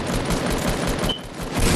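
Rapid bursts of video game gunfire fill the whole stretch, loud and dense like a sustained fusillade, with a brief lull near the end before the shooting swells again.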